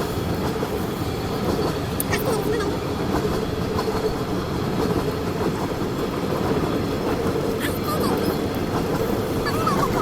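A train rolls past a level crossing with a steady, loud rumble and clatter of wheels throughout, occasional sharp squeals and knocks cutting through, no voices on top.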